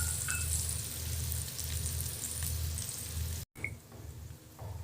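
Chopped onion frying with cumin and coriander powder in a pan, a low, steady sizzle with faint crackles that cuts out for an instant, then carries on more quietly.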